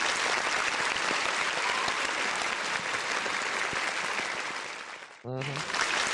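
Dense, steady clapping from a group carries on for about five seconds, then fades and cuts off abruptly, followed by a short tonal sound and a burst of noise.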